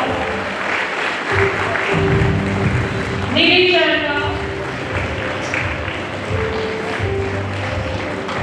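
An audience claps at a school annual function day celebrating student prizes, steady applause filling the hall while a voice speaks over it through the middle.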